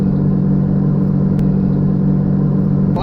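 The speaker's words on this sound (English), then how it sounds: "I have both engines in 5th gear. I'm cruising." A twin-engine car cruises in fifth gear with both engines running, giving a loud, steady, close engine drone and low rumble that holds level without revving changes.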